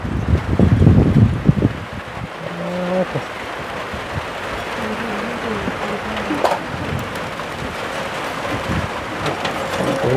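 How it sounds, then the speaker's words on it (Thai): Heavy rain pours down on a car roof, heard from inside the vehicle as a dense, steady hiss and patter with louder bursts at the start, low rumbles and scattered drops, no one speaking. "โอ้ยฝนตกดินเลยมื้อนี้"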